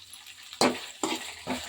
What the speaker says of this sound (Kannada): ಈಗ ಈರುಳ್ಳಿ ಮತ್ತು ಮೆಣಸಿನ್ಕಾಯಿನ ಮಗಿಸ್ತಾ ಇದ್ದೀನಿ ನೋಡಿ